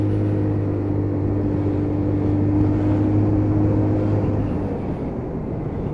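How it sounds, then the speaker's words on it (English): A cold Lexmoto Titan motorcycle engine idles at about 1500 RPM with a steady, low droning hum and even pitch that holds near and loud throughout, fading slightly at the end. "I'm idling about 1500 RPM"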